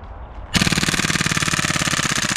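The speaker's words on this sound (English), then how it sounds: "I'm really interested to see how this replica performs shooting on full auto." A WE MP7 gas blowback airsoft gun fires on full auto: after a brief quiet moment, a loud, rapid, evenly spaced stream of close shots with sharp mechanical clacks runs without pause until the end.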